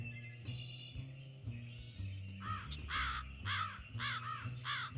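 A crow nesting atop an abandoned silo caws repeatedly, harsh calls coming in a quick series over a low steady hum in the background.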